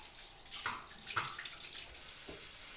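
Hands washed under a running kitchen tap, a short splashing rush of water with a few brief spatters as the hands move, close by and without speech.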